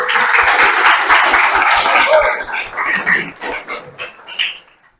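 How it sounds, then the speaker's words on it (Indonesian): A classroom of students claps for a student group: a dense burst of clapping that thins out and fades over a few seconds, with some voices mixed in. "Boleh tepuk tangan dulu?"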